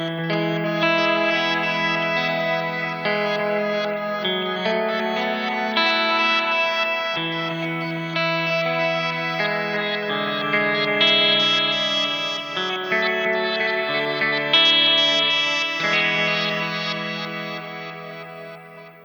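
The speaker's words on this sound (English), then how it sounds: "if you channel up with some reverb, some delay, it can sound really cool" Electric guitar chords ring out steadily, soaked in reverb and delay so the notes smear and echo into one another, played alone at full volume.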